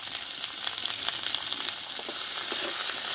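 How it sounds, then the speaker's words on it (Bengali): Green chili and crushed ginger fry in a pan with turmeric powder, giving a steady, fairly loud sizzle that holds throughout with faint scraping ticks. "হলুদটা দেওয়ার পরে কাঁচা লঙ্কা আর আদাটা আমি ভালোভাবে একটু কষে নেব"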